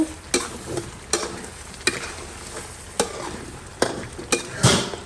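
Pandan chicken curry in a pot, Malaysian style, with oil separated after about ten minutes of cooking: a soft bubbling, sizzling bed broken by several sharp scraping stirs of a spoon against the pot, close up and with no talking.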